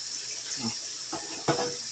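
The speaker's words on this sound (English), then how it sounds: "you're going to put 2 cups of water in this to 1 cup of rice" Water splashes into a measuring cup in a home kitchen while cooking rice, a few short pouring gurgles and splashes against a faint background hiss.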